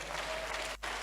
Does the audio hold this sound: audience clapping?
yes